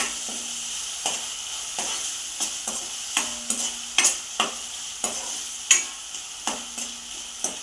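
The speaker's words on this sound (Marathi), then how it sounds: "याच्यामध्ये टाकूया बारीक चिरलेला एक छोटा टोमॅटो घेतलेला आहे. तो चांगला 1 मिनिटभर आपण परतून घ्यायचा आहे." Finely chopped tomato sautés with ginger-garlic paste in a pan for a small potato fry, with a soft steady sizzle broken by periodic scraping stirs, close and moderately loud.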